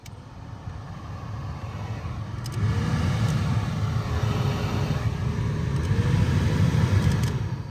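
A newly installed blower motor in a 2010 Toyota Corolla runs as a steady, loud low whooshing hum with airflow noise, holding even throughout with a faint whine riding on top.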